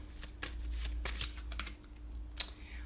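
Angel cards being handled and shuffled close by, giving a run of soft papery flicks and slaps with short pauses between them and a sharper snap near the end; no one speaks.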